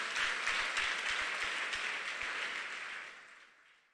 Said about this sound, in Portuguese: Dá uma aplauso forte ao Senhor por isso.